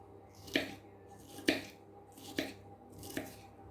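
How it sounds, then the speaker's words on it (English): A knife slices through food on a cutting board for nachos, four distinct crisp cuts spaced about a second apart, close and fairly quiet with no talk. "So I just slice that, turn it the other way."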